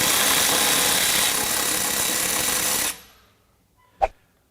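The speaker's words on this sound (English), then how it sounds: "It's a much quicker ratchet." A Milwaukee M12 FUEL high speed ratchet runs with a loud, fast whirring buzz for about three seconds, then winds down to silence, followed by a single short click.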